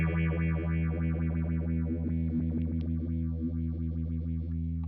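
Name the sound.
Flower Pedals Castilleja analog phaser, depth of rate swing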